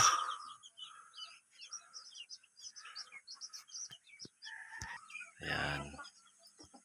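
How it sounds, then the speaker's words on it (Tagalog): Hens cluck and chatter softly in short, irregular calls, with a louder rustle or flap near the end. "Ito yung mga itlogan ko ng mga manok."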